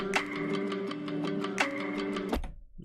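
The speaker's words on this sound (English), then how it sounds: "you can hear this sample or this guitar melody behind this, but it's a little lowered" A turned-down guitar melody sample sits in the background of a hip-hop instrumental remake, its volume automated lower, with steady ticking percussion hits over sustained tones before it cuts off near the end.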